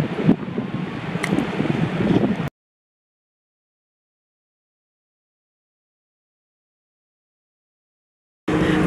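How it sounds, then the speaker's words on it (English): Wind buffets a microphone at the seaside, a steady rushing roar near and loud for a couple of seconds, then cutting out to silence before returning at the end. "Sorry, it's a bit windy."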